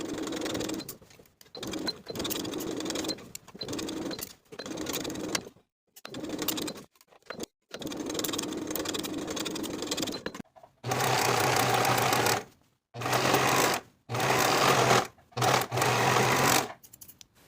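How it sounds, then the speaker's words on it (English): A sewing machine stitches a sleeve seam with a 1/2 inch seam allowance, running in repeated close bursts of steady whirring broken by short pauses. "Sew the sleeve in place from one outer edge of the sleeve all the way across the top to the opposite outer edge"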